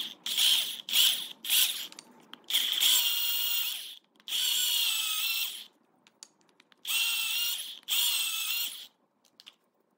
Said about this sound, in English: to drill those tiny holes